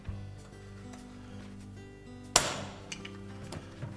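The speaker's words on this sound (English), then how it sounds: "you should really use a center punch" A sharp metallic hammer strike on a center punch rings out once against metal, followed by a few lighter taps and clinks in a quiet workshop.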